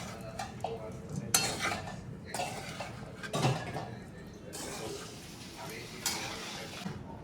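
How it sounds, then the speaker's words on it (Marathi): Khichdi stir-fried in a pan, a spoon scraping and clinking against the metal with a soft sizzle underneath, close, in intermittent bursts with quieter gaps, no talking. "आता खिचडी परतून झाली आहे."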